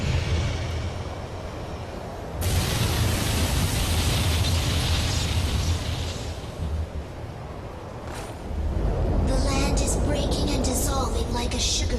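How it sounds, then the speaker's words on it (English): A mountain collapses in Odin Sphere with a loud, continuous rumbling roar and crashing debris. The sound surges in waves, with a bright burst of crackling near the end. "Horn Mountain is collapsing"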